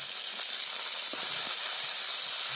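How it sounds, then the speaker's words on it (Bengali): Thinly sliced potato fries with onion in a pan, giving a steady close hiss and sizzle with faint soft taps from stirring. "ভালো করে আলুটাকে ফ্রাই করতে হবে।"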